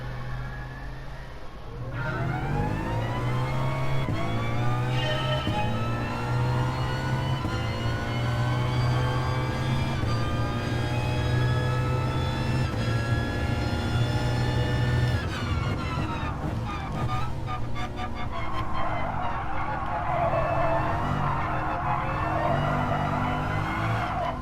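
An all-wheel-drive car driven hard in a sim racing game, its engine whining up through the revs in a continuous loud drone, with tyre scrubbing and a shift in tone partway through, no talk.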